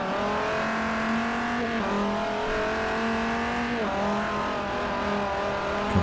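Engine of a race car sliding in Forza Motorsport 4 during a Dodge race showcase, a steady loud droning whine that dips and rises as it slides, with no talk over it.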